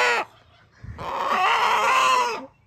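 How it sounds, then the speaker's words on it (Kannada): A chicken clucks at home: one short call, a pause, then a longer, louder drawn-out squawking cluck close by, with no talk. "ಕೋಳಿ ಸಿಕ್ತು ನಮ್ಗೆ."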